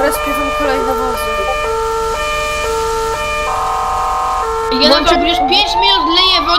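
A fire engine siren in a Roblox firefighting roleplay set in Międzyzdroje blares loudly in alternating electronic tones. Near the end it shifts to a rising wail while a voice talks over it.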